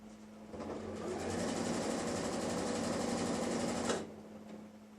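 Sewing machine running steadily as it stitches a dress sleeve closed, a continuous fast whirring hum for about three and a half seconds before it stops, leaving quieter room sound.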